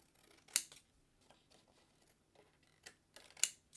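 Scissors snip through card stock in a few sharp, quiet cuts spaced irregularly, close up with faint handling rustle and no talking.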